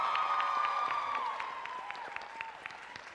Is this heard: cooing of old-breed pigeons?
no